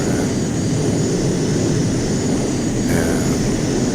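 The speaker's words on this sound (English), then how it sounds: "jet fighter such as this one" A JAS 39C Gripen jet fighter in a flight simulator game roars with a steady, dense engine rush and whine that holds at an even, loud level with no break.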